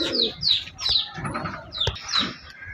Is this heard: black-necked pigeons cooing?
yes